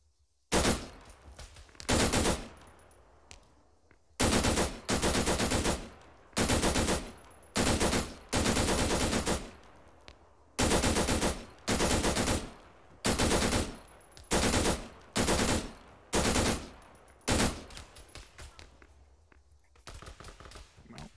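Machine gun fire in the ArmA 3 game on the Altis map, a dozen or so loud, sharp bursts of rapid automatic shots, each lasting about a second, repeating at a steady pace with short gaps between them.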